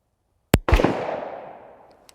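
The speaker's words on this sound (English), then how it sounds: "This is the Ross Martin, and we are shooting the ultralight." A single loud shot from a subcompact 9mm pistol firing Liberty ultralight 50-grain ammunition at about 2,000 feet per second. A sharp crack is followed by a booming report that rings out and decays over more than a second outdoors.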